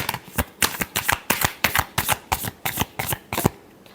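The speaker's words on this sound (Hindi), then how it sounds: "Last shuffle." Tarot cards being shuffled by hand: about a dozen quick, crisp riffling bursts in a steady rhythm, close and fairly loud, with no voice over them.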